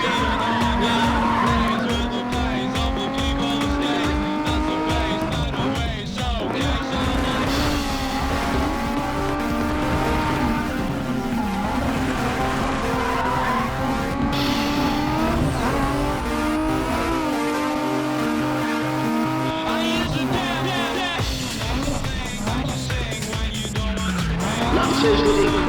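Race cars from the video game Need for Speed: ProStreet roar continuously at high revs, engines rising and falling through gear changes with occasional tire squeal, close and loud throughout, with a commentator talking over them.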